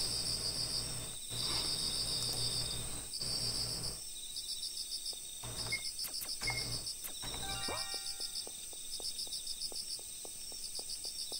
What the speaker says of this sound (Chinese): 这个蝉叫是不是变大？